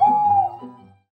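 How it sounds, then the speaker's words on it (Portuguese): A single owl hoot, a smooth wavering tone lasting about a second, then silence. "Era só uma coruja piando."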